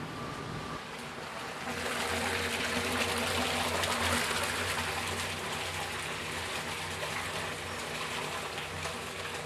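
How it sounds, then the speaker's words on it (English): A batcher pours about 100 liters of hot water into a large cooking pot, making a steady, broadband rushing and splashing roar that holds throughout, with a low mechanical hum underneath and no talking. "it batches 100 liters of water into the pot"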